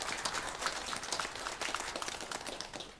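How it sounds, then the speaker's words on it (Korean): A church congregation applauding during a Sunday worship service, steady dense clapping at moderate distance, fairly faint, with no voices over it. "우리 한번 박수로 축복하겠습니다"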